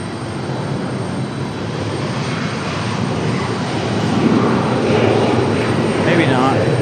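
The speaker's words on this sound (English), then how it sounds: "We've got an American Eagle coming up for departure." American Eagle airliner getting ready for departure at Raleigh-Durham International Airport, heard as a steady jet engine roar that slowly grows louder. The sound is broad and comes from a distance.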